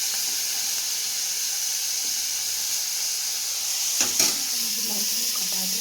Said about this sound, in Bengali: দেখো চিংড়ি মাছটা এখন ভাজছি